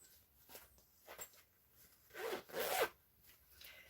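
A zipper on a beeswax-lined bread bag is handled, giving a few soft scratchy rubs and then a longer, louder zipping drag near the end, close and quiet with no talk.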